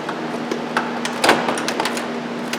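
The interior door panel of a Chevrolet Express van scrapes and clicks faintly as it slides up off its retainer, with one brief louder knock in the middle over a steady background hum.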